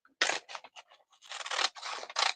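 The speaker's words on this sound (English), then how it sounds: "I'm going to cut, looking for the right scissors," Scissors snipping through Bonder web fusible backing: a quick series of crisp, close cutting crunches, some short and some drawn out, alone without talk.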